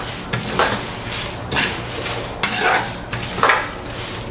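Curry powder spices dry-roasting in a pan over medium-low heat, with repeated scraping strokes of a spoon against the metal every second or so and a soft, steady dry rustle beneath; no voices.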